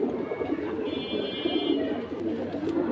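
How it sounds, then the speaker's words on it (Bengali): Pigeons coo softly and repeatedly in the crowded bustle of a pigeon market. Their low, throaty calls overlap against a steady background murmur. "খুব সুন্দর একটা কবুতর।"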